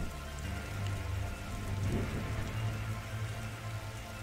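Steady rain patters on surfaces during a storm in The Darkside Detective video game, with a low rumble swelling midway. The rain runs continuously at moderate level with no voices.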